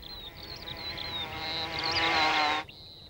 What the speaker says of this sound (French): Les polistes sont une famille de guêpes sociales primitives.